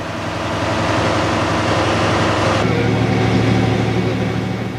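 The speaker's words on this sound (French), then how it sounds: "Côté motrice, et même à vitesse réduite, la cabine est assez bruyante lorsque les moteurs montent en régime, mais Guy est attentif au son du moteur." Diesel engines of an RGP X 2709 railcar drone loudly and steadily from inside the cab, a dense low rumble whose pitch shifts partway through as the engines work harder.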